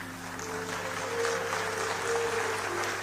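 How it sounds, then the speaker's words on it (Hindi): Faint, steady applause from an audience at a poetry recital honoring Atal ji, a soft wash of clapping heard from a distance with a low hum underneath. "आपकी तालियां ही मेरा पारिश्रमिक है"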